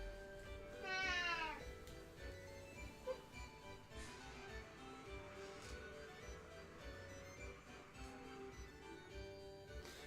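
A cat with three legs meows once clearly near the start, rising and falling, over a steady background of game music and ambient hum.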